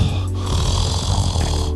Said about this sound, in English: it sounds like you're snoring